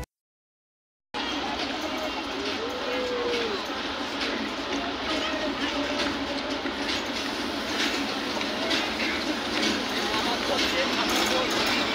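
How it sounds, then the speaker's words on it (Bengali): A passenger train pulls away again after a long halt at Bangabandhu Bridge East station in Bangladesh, its steady, loud rolling rumble and rail clatter starting after a second of silence and continuing unbroken. "বেশ কিছুক্ষণ অপেক্ষার পর আমাদের ট্রেন আবার যাত্রা শুরু করল।"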